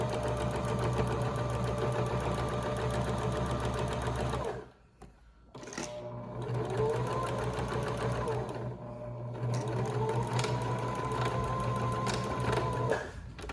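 A sewing machine runs steadily, stitching a fabric face mask along the edge of the presser foot, with a brief pause near the middle while pins are pulled out before the close, even whirring hum resumes.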